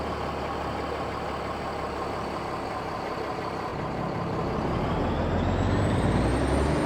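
A heavy truck engine in American Truck Simulator, hauling a big load, drones steadily and loud, then rises in pitch as the revs climb toward the end.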